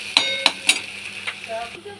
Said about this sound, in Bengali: কড়াইয়ে সরষের তেল দিয়ে পেঁয়াজগুলো এখন ভাজা হচ্ছে একটু।